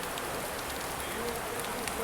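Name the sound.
heavy rain at railway station during train journey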